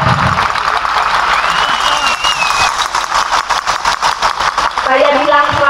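A large crowd at an outdoor MURI record event on a town square for the Sluku-Sluku Bathok dance and Bhayangkara 77 anniversary clacks coconut shells together, a dense rhythmic rattle of many clicks under an amplified announcer's voice.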